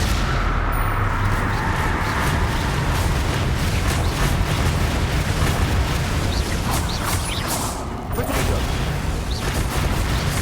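Blast from the Confringo fire spell in the game Hogwarts Legacy: a dense, continuous rumbling roar of explosion and crackling debris that stays loud throughout, with a brief dip near the end.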